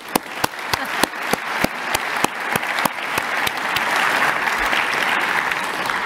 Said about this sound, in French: Moi je l'applaudis parce que c'était sympa.